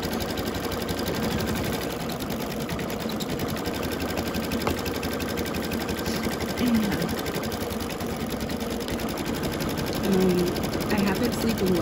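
An embroidery machine stitches a bathroom towel, a fast, steady mechanical chatter running evenly and close throughout, with brief faint tones over it.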